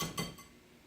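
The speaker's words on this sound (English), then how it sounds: "Give that just a quick whisk." A whisk gives a quick, faint metallic clink against a bowl while mixing a liquid mixture with golden raisins for slow cooker ropa vieja. It is a single soft tap that fades into quiet.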